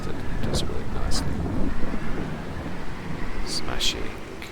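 Steady rain hiss and low rumbling thunder in the farming video game Farming Simulator 22, a constant dense wash with a few faint high clicks scattered through it, no talk.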